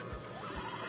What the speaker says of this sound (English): you're gonna tether him up to Javier's horse